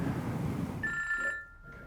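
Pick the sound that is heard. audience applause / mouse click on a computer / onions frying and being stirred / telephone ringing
telephone ringing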